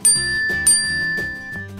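Notification bell chime used as a sound effect, two bright ringing dings in quick succession with long shimmering sustain, loud and alone with no talk.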